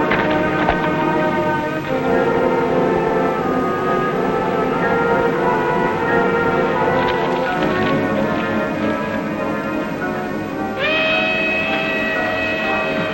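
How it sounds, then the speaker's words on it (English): A westbound train passes at a depot in a 1956 western, a loud, continuous roar and rattle with sustained tonal ringing through it. The pitch shifts near the end as the train goes by. "That's a westbound train."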